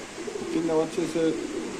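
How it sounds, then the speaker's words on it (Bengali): Three young racer pigeons in a cage give soft, low coos in a couple of short bursts, close by and fairly quiet. "দুই নাম্বার খাঁচা তিনটা বাচ্চা কবুতর আছে"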